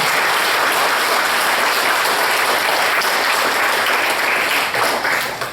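An audience at a lecture event bursts into loud, continuous applause, a dense, even clapping that holds steady throughout before tapering slightly at the very end.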